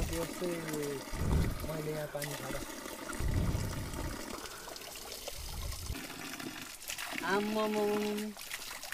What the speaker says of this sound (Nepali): अरे ढुङ्गै धारामा पानी खाएर जाउँ न त